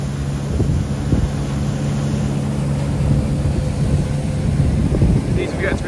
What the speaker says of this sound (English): a bit too much wind this morning, really